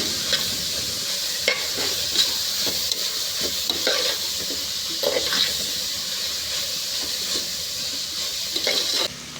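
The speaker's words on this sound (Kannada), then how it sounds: "ನಾನಿವಾಗ ಅರಿಶಿನ ಪುಡಿ ಹಾಕಿದ್ದಾದಮೇಲೆ ನೀಟಾಗಿ ಎಲ್ಲ ಮಿಕ್ಸ್ ಮಾಡ್ಕೊತಾ ಇದ್ದೀನಿ" Cabbage with turmeric powder is stirred in a hot frying pan for a cabbage palya, giving a steady close sizzle broken by repeated scraping strokes of the spoon, with no talking.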